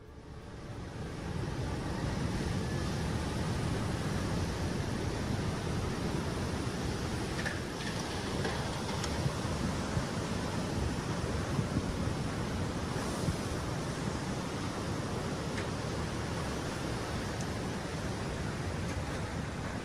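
Tsunami waves flooding low-lying ground on the Tonga Islands, a steady loud broadband roar of rushing water and surf mixed with wind buffeting the microphone, continuous for the whole stretch with no voices.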